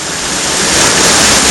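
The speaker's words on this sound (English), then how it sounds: "the water's kind of gushing out of this" Meltwater gushing out of a winter ice cave, a steady loud broadband rush that swells slightly and continues without a break.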